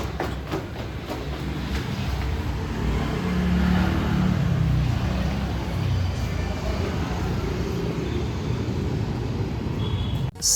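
An auto rickshaw in Bengaluru rumbles close by with a continuous engine drone and road noise that swells slightly midway and then holds steady, with no speech.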